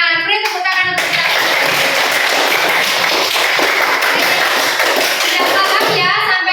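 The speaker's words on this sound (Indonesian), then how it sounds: "beri tepuk tangan untuk kita" A classroom of schoolchildren bursts into loud, dense clapping that lasts several seconds before tapering off, with children's voices heard just before and after the applause.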